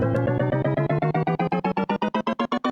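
A short looped sample repeats faster and faster while its pitch steadily climbs, the stutters tightening into a rising, accelerating buzz, from the Effectrix plugin's X loop pitch and time effect.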